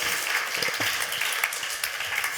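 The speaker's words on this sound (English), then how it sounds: "That deserves a round of applause, I think." A conference audience at re:publica 2024 breaks into steady, dense applause that fills the room evenly, with no talking over it.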